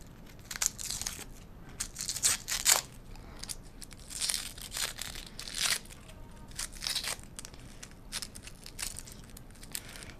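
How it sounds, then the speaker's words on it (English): The dry papery skin is peeled off an onion by hand, heard as close crinkly tearing and crackling in irregular bursts with brief pauses between, fairly quiet and with no talking. "So I'm just gonna take the skin off. Okay, let's peel this off real quick."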